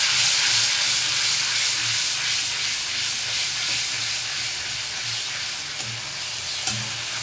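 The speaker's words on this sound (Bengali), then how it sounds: "মশলা কষা হোক" Spices frying in a pan for an egg recipe give off a steady, close, loud sizzle with continuous hiss and bubbling that lasts throughout, with no talking.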